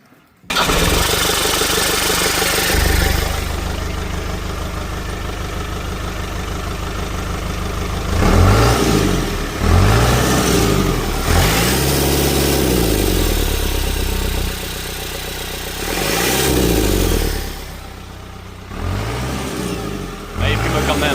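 A Case tractor engine turns over and fires, then runs loud and close with a rough mid-pitched idle and several throttle blips rising and falling, while people talk over it at times.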